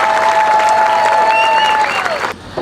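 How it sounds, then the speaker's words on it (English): Crowd applause for the top five semifinalists at the West Lampeter Fair Queen contest, loud sustained clapping with a little cheering and a bright tonal hum running over it, fading out abruptly near the end. "Please give the top 5 semifinalists one more round of applause."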